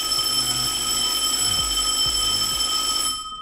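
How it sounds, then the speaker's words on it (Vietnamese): A fire alarm set off by smoke near its sensor on a student STEAM project rings with a steady, piercing electronic tone and a few low thumps beneath, then stops abruptly. "Lúc này chuông báo cháy sẽ reng lên báo hiệu cho người trong nhà biết."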